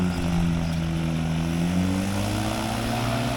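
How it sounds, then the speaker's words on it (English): A Chinook light aircraft's propeller engine drones steadily and close, its tone slowly rising and shifting, with no talk over it. "This is Marco's second flight in the Chinook with a view to buying it."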